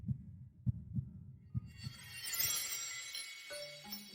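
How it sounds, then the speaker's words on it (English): Heartbeat sound effect: a slow run of deep, muffled double thumps close up, then fading under a rising bright, shimmering wash of music. "My heart is beating so fast."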